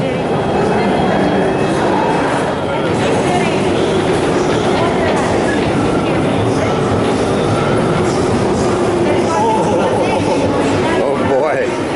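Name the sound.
metro train running on rails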